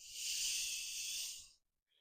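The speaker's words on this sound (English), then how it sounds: "Ujjayi." Ujjayi breathing during a yoga flow: one close, steady, ocean-like breath hissing for about a second and a half, then fading into silence.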